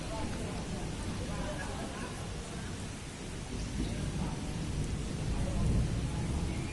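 Steady heavy rain roars throughout, a dense wash of noise with a low rumble underneath, at a flooded railway station in Nakhon Ratchasima, Thailand.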